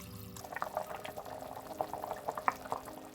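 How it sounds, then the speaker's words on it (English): Soft, continuous bubbling of soup with vegetable stock simmering in a pot, with small pops and gurgles at a low, steady level. "Once the soup is bubbling, we'll turn down the heat"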